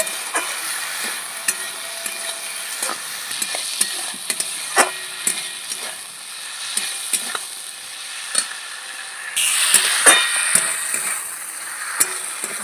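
Potatoes and ivy gourd fry with green chilli paste and Kashmiri chilli powder in a pan, giving a close, steady sizzle broken by repeated taps and scrapes of a stirring spoon, and the frying grows louder near the end.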